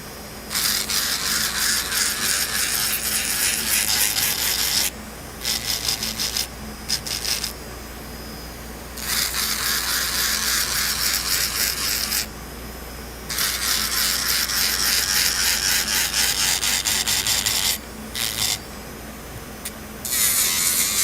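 Artificial nail surfaces are filed and thinned with a close, rasping scrape. It runs in long continuous stretches separated by short pauses.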